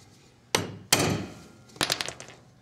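Three sharp metallic hammer blows on a trailer brake hub ring out close by, two single strikes followed by a rapid cluster of smaller taps, with quiet between.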